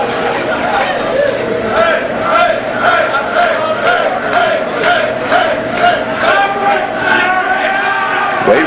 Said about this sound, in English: The crowd calling to Black